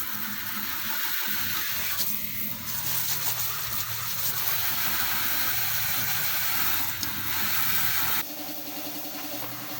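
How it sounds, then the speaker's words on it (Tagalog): Rinse water runs over a full face motorcycle helmet during hydro dipping. It gives a continuous hissing gush with shifting splashes and a brief change in the stream's tone near the end, and no talk. "Banlawan natin maigi."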